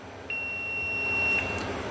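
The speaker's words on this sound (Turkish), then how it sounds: "Ölçü aletimi bip konumuna alıyorum." Multimeter in continuity mode while checking buffer chip traces on an air conditioner's circuit board: one steady high beep sounds for about a second over faint background noise.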